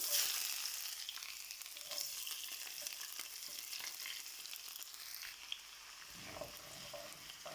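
Ginger and garlic frying in hot oil with fenugreek for a sweet lemon and dates pickle, a continuous soft sizzle with occasional stirring scrapes, close and fairly quiet, with no voices.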